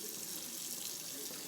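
Cold water runs steadily from a kitchen tap to rinse collard greens, a constant close hiss with no pauses or talk.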